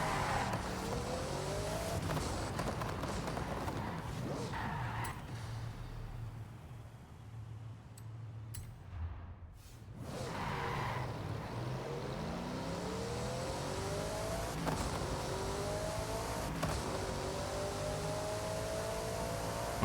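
A Bugatti driven in the Forza racing game, its engine revving and climbing through gears with tire noise, continuous and loud, easing off briefly in the middle before accelerating hard again.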